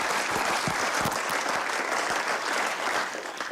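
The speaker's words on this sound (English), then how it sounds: "So please give him a round of applause for that." An audience at a university coach's retirement press conference claps in a dense, even wash of applause that stays loud throughout, with no talk.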